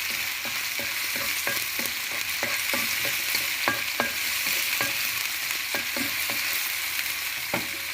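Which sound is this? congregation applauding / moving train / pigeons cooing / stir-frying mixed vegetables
stir-frying mixed vegetables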